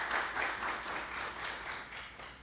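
Audience clapping at the BioAg Asia 2022 conference fills the room in a steady, dense wash of applause, fairly loud and sustained without a break.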